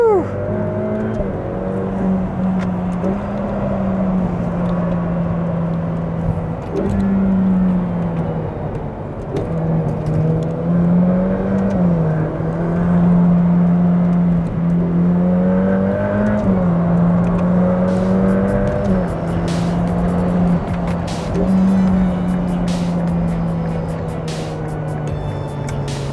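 Ferrari F8 Spider driven hard on a race track, its engine note droning steadily and rising and falling through gear changes and revs for the whole stretch, loud and close, with brief talk under the engine.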